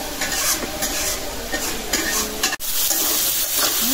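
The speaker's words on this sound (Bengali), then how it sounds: "মশলাটা একদম ভালো করে কষাই দিলাম।" Spice paste frying hard in a pan while being stirred briskly, a loud continuous sizzle with repeated scraping strokes and one brief break, and no speech.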